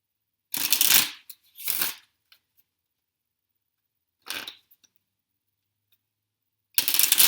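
Tarot and affirmation cards are shuffled in four separate bursts of riffling flutter, close and crisp, with near-silent gaps between them.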